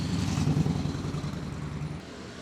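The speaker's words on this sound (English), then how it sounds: "I'm gonna wait for the traffic to stop." Steady road traffic rumbles past on a street in Japan, a dense low engine drone from cars and motorbikes that stays loud throughout before easing slightly near the end.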